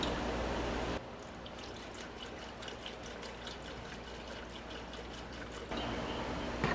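Liquid pours from a bottle into the engine of a 1968 Pontiac LeMans, a steady close trickle and gurgle running for several seconds over a low background hum, with the flow stopping near the end.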